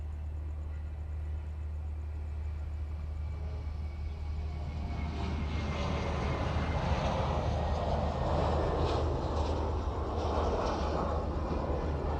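A Qantas airliner arriving from Melbourne at Honolulu airport builds as a rising, broad roar out of a low background rumble, growing louder toward the end.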